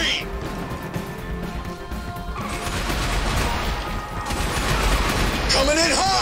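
Airstrike explosions hit in the video game Red Faction Armageddon, building into a loud, sustained barrage of crashing blasts and rumbling debris, with a voice heard briefly near the end.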